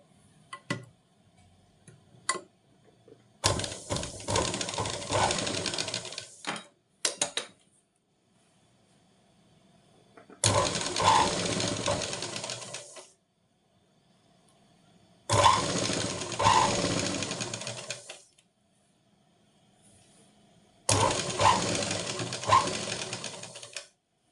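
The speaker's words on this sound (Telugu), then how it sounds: "ఇప్పుడు చూడండి, ఇదే లైన్ పైన నేను స్టిచ్ చేస్తాను." A sewing machine stitches along a marked line while shortening an elbow-length sleeve, heard as four separate close bursts of rapid mechanical chatter, each a few seconds long, with quiet gaps and light clicks between them.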